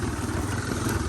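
The 1987 Honda Big Red three-wheeler's engine runs with a steady, loud, rough drone up close, a continuous throbbing putter with no talking over it.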